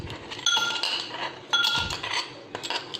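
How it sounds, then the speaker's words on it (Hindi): Small ice cubes clink and rattle as they are dropped into a glass for a street-style mango milkshake, coming in three bright, clattering bursts close up with no talking. "बर्फ़ के क्यूब डालेंगे। ये छोटे वाले क्यूब हैं"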